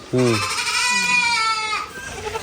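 A goat gives one long, wavering bleat close by, preceded by a short lower bleat, then the pen falls quiet with faint background noise.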